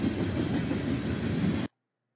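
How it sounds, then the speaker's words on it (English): A southbound CXX mixed freight train rolls past close by, a loud continuous rumble of wheels and cars that cuts off abruptly into silence near the end. "this one is a southbound mixed freight train."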